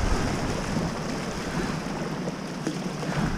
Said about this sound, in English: Big old waterfall.